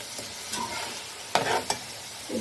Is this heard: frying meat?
yes